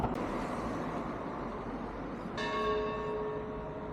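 Church bells ring on a street corner among condos, restaurants and traffic in the Vigo area of Spain, a faint single strike rising out of a steady bed of traffic rumble.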